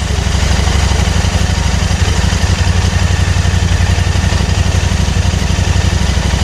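A motorcycle engine idles steadily during lockdown maintenance, a loud, continuous low rumble with a fast, even pulsing beat and no revving.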